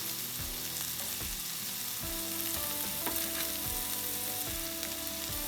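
Salmon pieces are broken down and crumbled in a hot pan, giving a steady close sizzle with occasional stirring knocks, while background music plays throughout.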